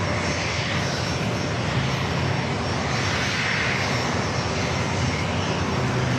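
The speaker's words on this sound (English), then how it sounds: "You're looking at NetJets flight 806 heading to Palm Springs in the Cessna Citation" NetJets Cessna Citation Longitude business jet at San Diego airport, a steady broadband engine roar that holds loud and even throughout with no voices.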